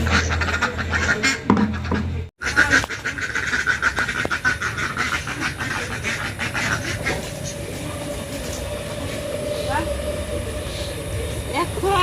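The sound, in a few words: ducks quacking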